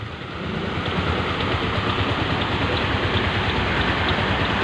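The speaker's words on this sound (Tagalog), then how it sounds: "naabutan tayo ng ulan" Steady heavy rain pours down close by, a dense continuous hiss with pattering drops and no voices.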